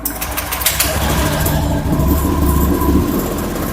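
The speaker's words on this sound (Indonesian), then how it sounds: "Cek di saat mesin hidup." A vehicle engine started during a vocational training check runs at a steady idle close by, giving a continuous low rumble with no voices over it.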